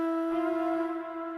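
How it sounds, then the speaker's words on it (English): A single sustained vocal tone hangs steady and bright, smeared by a spacious ambient-mode delay effect in FL Studio that keeps it ringing evenly for the whole moment. "But then when you're on ambient, it can sound like this."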